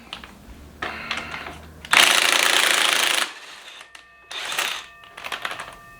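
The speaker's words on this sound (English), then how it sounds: "And now I'm going to break loose my axle nut." An impact wrench breaks loose the axle nut on a 1999 Harley FXST in a workshop, firing in loud rattling bursts, one long burst mid-clip between shorter hammering runs, with no talk.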